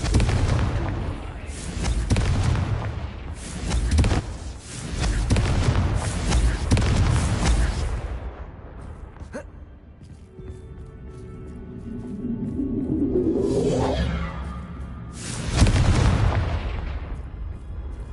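Confringo fire spell in the Hogwarts Legacy game, a series of loud booming blasts and crackling bursts, several close impacts in quick succession, a quieter rising whoosh mid-way, then another heavy blast.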